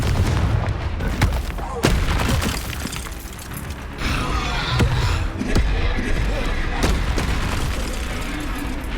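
Confringo blasting spells from the video game Hogwarts Legacy detonate in several booming impacts within a noisy battle, with shouted voices and clashing effects layered around the explosions.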